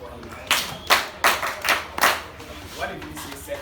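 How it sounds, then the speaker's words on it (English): Classroom pupils in a mathematics lesson clap for a classmate, a series of about seven sharp, distinct claps in loose rhythm, close and fairly loud, with a voice briefly audible between them. "Let's clap for him."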